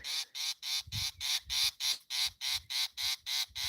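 A fiscal shrike scolds a mongoose in a rapid series of about a dozen harsh, rasping alarm calls, evenly spaced and close, with soft low rustling beneath some calls.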